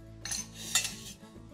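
A spoon stirs tomato juice with a little soy sauce in a pot, making a few bright clinks and scrapes against the metal in a short close burst, with no talking.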